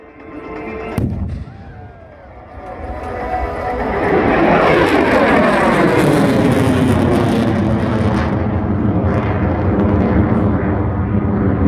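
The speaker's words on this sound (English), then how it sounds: "he'll pull up, go into full afterburner, and climb right out of here" An F-35 jet roars overhead at an airshow, pulling up and climbing in full afterburner, swelling into a loud, sustained rumble that stays intense and close, after a sharp bang near the start.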